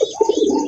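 A male pigeon, a fancy racer, coos close and loud in a short rolling burst of low throaty notes, with no other sound around it.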